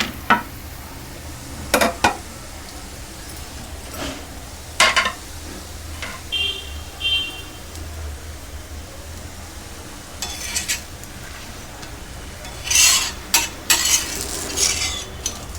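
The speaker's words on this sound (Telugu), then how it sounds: "ఇంకా ఎర్రగా కావాలంటే అలాగ ఉంచుకోవచ్చు చక్కగా ఎర్రగా ఫ్రై అవుతుంది" Pesarattu made with masala powder frying on a pan at a tiffin centre, a continuous low sizzle broken by sharp scrapes and clinks of a spatula and utensils at irregular intervals, close by, without speech.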